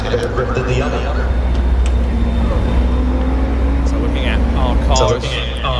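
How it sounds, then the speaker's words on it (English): Race cars circle a track at Virginia International Raceway in an IMSA endurance racing video game, their engines humming steadily in the background beneath continuous commentator talk. "Cars pacing around and getting ready to go."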